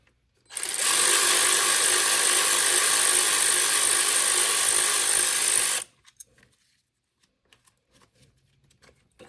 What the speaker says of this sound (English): then you get your 8mm ratchet and proceed to pull the coil off